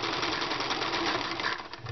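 A sewing machine runs continuously, stitching along the bottom edge of a raglan shirt toward the armpit, a loud, steady, rapid mechanical whirr close by.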